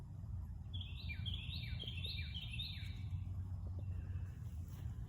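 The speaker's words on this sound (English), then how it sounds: "And birds are always noisy in the morning." Birds sing in a morning garden, a short series of clear, repeated chirping phrases at moderate distance over a low steady background rumble, then fading.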